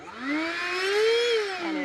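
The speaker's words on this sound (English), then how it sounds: "this is my little Black & Decker vacuum" A small Black & Decker cordless handheld vacuum whirs steadily inside an off-road camping trailer, its motor pitch rising slightly and then dipping near the end, loud and close with no talking.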